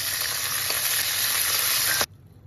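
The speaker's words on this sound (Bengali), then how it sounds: "এবার গাজরের মধ্যে মটরশুঁটিটা দিয়ে দিচ্ছি। অল্প একটু ভেজেই এটা তুলে নেব, বেশি ভাজা যাবে না।" Carrots and peas frying for street-style egg chowmein give a loud, steady sizzle in a pan, which stops abruptly near the end and leaves near silence.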